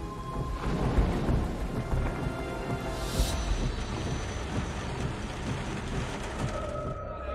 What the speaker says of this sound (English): storms gathered on the horizon once more and began to pummel the city